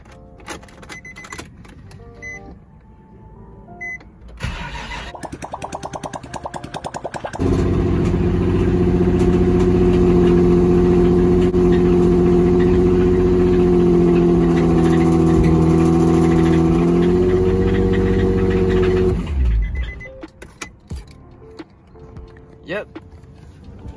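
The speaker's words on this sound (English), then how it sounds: "So yeah, this thing has rod knock." A Nissan 350Z with rod knock cranks over and settles into a loud, steady idle for about twelve seconds, then shuts off; quieter handling noises come before and after.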